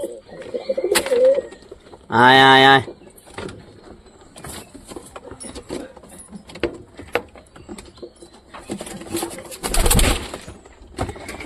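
Pigeons coo softly at close range amid scattered rustling and clatter, with a brief burst of voices early on.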